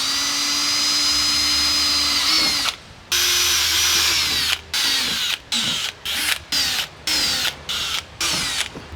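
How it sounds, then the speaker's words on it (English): A power drill pre-drills 6mm holes in a Hyundai i20N bumper for a splitter kit, whining loudly for a long stretch and then running in a string of short, sharp bursts with brief pauses between them. "pre-drill it with a 6mm first,"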